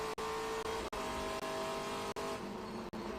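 A TA2 series race car laps Watkins Glen at speed along the front straightaway, with a loud, sustained engine roar heard up close from onboard, broken by a few very brief dropouts.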